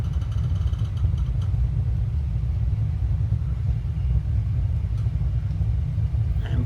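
Steady, loud low rumble of an airplane engine during takeoff in a flight simulator game, continuous and unbroken with no talking.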